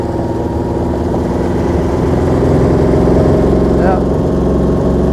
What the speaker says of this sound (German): Er hat einen sehr, sehr schönen Sound, wie ihr hören könnt.